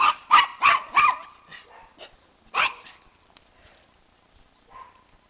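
A Miniature Pinscher yaps at a squirrel in a quick burst of four sharp barks, then a few softer ones, another single bark, and a faint whimper near the end.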